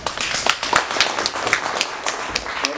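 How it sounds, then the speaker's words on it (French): A conference audience claps steadily and densely throughout, with sharp individual claps standing out above the broad wash of applause in a hall. "On va réserver vos applaudissements après si ma conférence est bonne."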